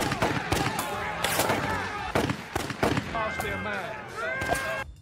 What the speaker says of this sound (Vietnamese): Lão ta quay sang cướp lấy súng rồi nhắm vào đám tù nhân mà bắn lừa.